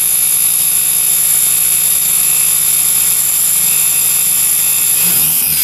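A Toyota Celica GTS engine from the 7th generation runs steadily and close by with its mass airflow sensor fitted. It makes a loud, constant hum with a high whine on top, and near the end a few low knocks come through.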